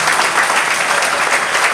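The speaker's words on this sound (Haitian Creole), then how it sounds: "On va pas mettre un applaudissement pour nous." Applause from a church congregation at an Apostolic Faith church celebration, a dense, steady clapping from many hands filling the room, loud and close throughout.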